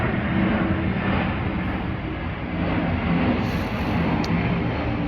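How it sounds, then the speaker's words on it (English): A plane passes overhead, a broad, steady engine rumble heard from a distance that holds at constant loudness across the whole stretch, with no talking. "The plane again."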